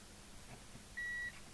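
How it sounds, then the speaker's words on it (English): Continuity tester buzzer on a multimeter, checked across the heatsink of a Harvard 400M CB27/81 CB radio chassis: a single clear electronic beep lasting about a third of a second against a faint, quiet background. "put it on a buzzer"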